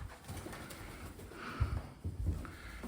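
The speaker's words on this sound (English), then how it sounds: "I came home to 2 blackbirds who I have no idea how they got in the house." Two blackbirds trapped inside a house, heard as scattered faint calls and soft flutters in a quiet indoor room, with a couple of louder low thumps near the end.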